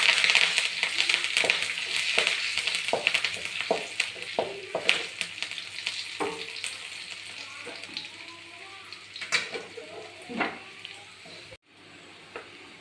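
Curry leaves crackle and sizzle in hot oil for a homemade paalkappa tempering, a steady close frying hiss with scattered pops and light stirring clinks.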